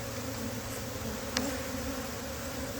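Honey bees crowd into their hive with a steady, dense buzzing drone, close and constant, broken once by a brief faint click.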